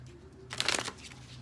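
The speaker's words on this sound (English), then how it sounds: "Let me just shuffle this deck up a little bit." Tarot cards shuffled by hand, a brief burst of riffling and rustling in the middle that fades back to a quiet room.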